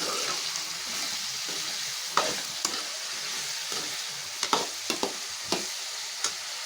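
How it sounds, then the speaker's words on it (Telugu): Brinjal pieces frying in a pan, a soft continuous sizzle punctuated by several crisp spatula scrapes and taps as they are stirred, close and fairly quiet. "ఇందులో వంకాయలు కూడా వేసేసుకుంటున్నాను"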